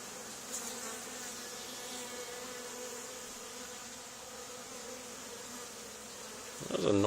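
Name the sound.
honey bee drone buzzing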